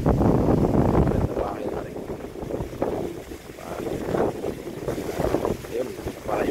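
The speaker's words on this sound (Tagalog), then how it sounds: "Lalo lakas mo hangin, grabe, may bagyo kasi ngayon guys." Strong typhoon wind on a baywalk buffets the microphone in loud, continuous low rumbling gusts, with a voice faintly mixed in.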